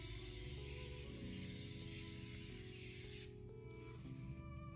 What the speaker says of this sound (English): So I'm gonna take this Morphe continuous setting spray.